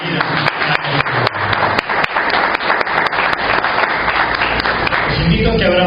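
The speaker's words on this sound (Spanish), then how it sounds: "Denle ese fuerte aplauso de bienvenida." Church congregation giving an applause of welcome, a lively mix of hand claps with some sharp individual claps standing out, while voices talk underneath and the clapping thins toward the end.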